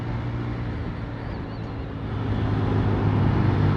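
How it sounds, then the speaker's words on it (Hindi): Motorcycle engine heard from the rider's position, a steady loud low drone with a mild rise toward the end. "रेव मैचिंग भाईजान, रेव मैचिंग हो रही है।"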